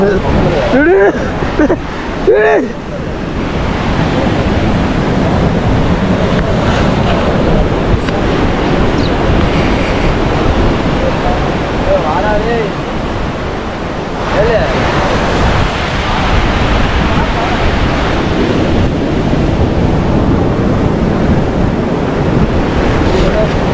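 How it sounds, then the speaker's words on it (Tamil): Ocean waves wash continuously onto Odayam beach in Varkala, a loud, steady roar of surf mixed with strong wind buffeting the microphone, with a few brief voices near the start. "இப்போ ஓடையம் பீச்சுக்கு வந்திருக்கிறோம்"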